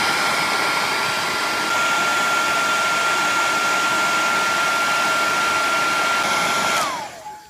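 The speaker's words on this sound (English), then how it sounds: "FYI, heat guns are really hot, so make sure you don't touch that spot" Heat gun blowing hot air to shrink heat shrink tubing on audio snake cables, a loud steady whine with a fixed tone that runs for about seven seconds and then winds down as it switches off.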